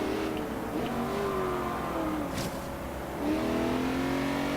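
Race car in Forza Horizon 3 drones with a steady, loud engine note that dips and then climbs again as it revs, continuous throughout with no talk.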